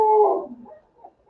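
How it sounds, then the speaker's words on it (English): Dogs howling outdoors, a single drawn-out, wavering howl that fades over about a second, moderately loud with no talk over it. "My dogs are having a good time out there, as you can hear."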